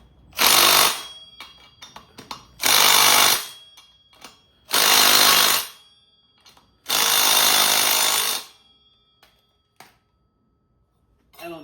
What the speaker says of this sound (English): but I got a drill.